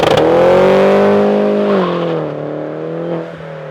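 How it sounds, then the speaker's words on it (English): A car engine holds at high rev on launch control with an N2MB WOT Box 2-step, sounding loud and close and buzzing steadily before the pitch drops and fades. "we're going to demonstrate the launch control"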